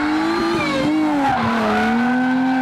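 Original six-cylinder engine of a supercharged Lexus IS 200, revving loudly and steadily close by, its pitch rising and falling across a couple of seconds with no voices over it.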